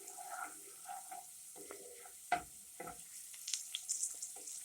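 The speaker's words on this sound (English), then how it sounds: "that garlic clove brown and cook" Garlic cloves frying in spicy lard in a pan on the stove, giving a soft, steady sizzle with scattered pops and crackles and a few louder spits near the middle. Faint clinks of stirring sound under it.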